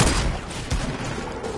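Gunfire in a shooter video game, a dense burst of shots with a sharp attack near 0.7 s, loud and close, with rumbling reports running through the whole short stretch and no talking.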